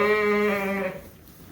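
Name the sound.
sheep bleating in barn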